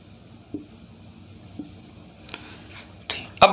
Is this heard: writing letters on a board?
yes